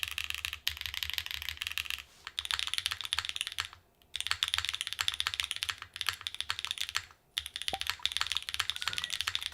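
Crisp, close keystrokes clatter from a custom mechanical keyboard with Obscura switches, with rapid typing runs broken by short gaps.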